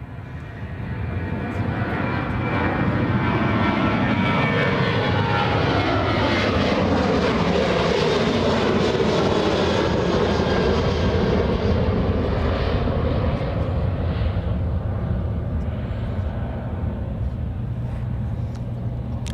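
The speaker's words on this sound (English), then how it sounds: "we got a 737 taking off" Boeing 737 jet roars loudly as it takes off at Anchorage's Ted Stevens International Airport, a broad, powerful engine rumble that swells and holds for nearly twenty seconds.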